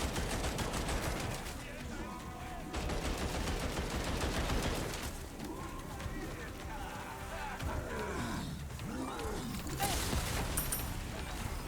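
Sustained shooting in Resident Evil 4 Remake on Assisted difficulty, a dense, continuous wash of gunfire and action noise with repeated shots and low rumbling, fairly quiet overall, with some talking mixed in.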